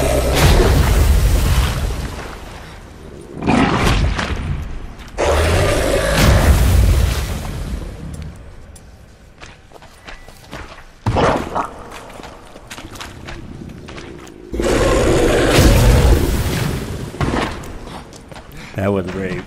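Grapeshot bombs go off in The Witcher 3 as several heavy, close booming blasts, each with a long rumbling tail, spread out between quieter stretches, with someone talking throughout.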